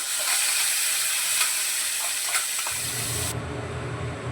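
A ground cashew spice paste being sautéed in a pan gives a quiet, steady hiss and sizzle with a few faint clicks, and the texture shifts to a lower rumble near the end.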